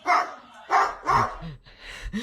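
A parrot mimicking a dog, giving three or four loud, close barks in an uneven rhythm with short gaps between them.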